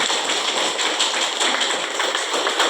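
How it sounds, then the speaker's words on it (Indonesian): An audience claps continuously, a dense steady wash of many hands that holds evenly loud for the whole stretch without a break. "Oke, kasih aplaus semuanya."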